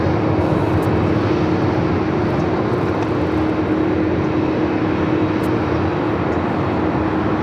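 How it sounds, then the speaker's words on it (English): A Hawaiian Airlines Airbus A330-200 takes off from LAX bound for Honolulu, its engines producing a loud, continuous jet roar with a steady tonal hum, sustained throughout with no talk. "Hawaiian Airlines 803 taking off to Honolulu on the A330-200"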